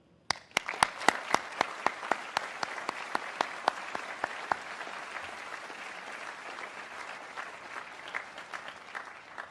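Audience at the 2024 Caltech commencement applauds graduates' parents and families, opening with a few sharp, distinct claps that quickly swell into steady, sustained applause from a large crowd filling the hall.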